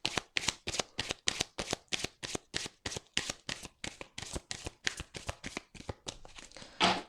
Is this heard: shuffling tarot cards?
yes